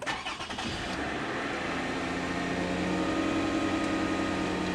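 A 2007 Toyota Camry engine cranks briefly and catches, then settles into a steady close idle hum with no voices.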